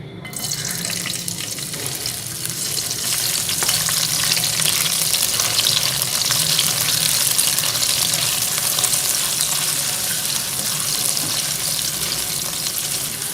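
Raisins frying in oil over a low flame for Irani mutton biryani, giving a steady, close sizzle with faint stirring that runs unbroken for the whole stretch, with no voices.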